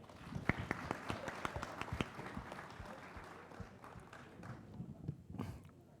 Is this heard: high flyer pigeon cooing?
no